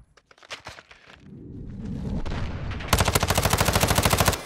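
Automatic gunfire in Call of Duty Modern Warfare II during Hardpoint at Breenbergh Hotel, scattered shots building into a long rapid, loud burst of fire in the second half.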